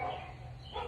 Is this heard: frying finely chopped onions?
no